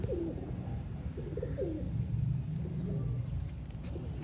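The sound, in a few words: pigeons cooing on rooftop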